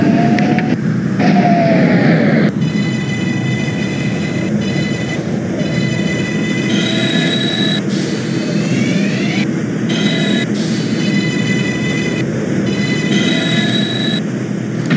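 A New York subway 6 train, Brooklyn Bridge bound on the Pelham and Lexington lines, runs in the OpenBVE train simulator, with a steady loud rumble of wheels and motors, whining tones rising and falling, and brief high squeals over the continuous roar.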